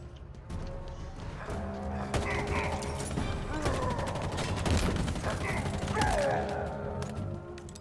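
Assault rifle bursts in Halo Infinite crackle in quick repeated volleys over a busy battle backdrop, moderately loud, with a person talking over parts of it.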